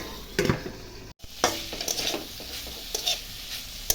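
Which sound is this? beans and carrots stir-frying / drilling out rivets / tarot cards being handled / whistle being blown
beans and carrots stir-frying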